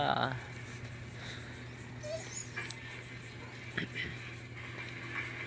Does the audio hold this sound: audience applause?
no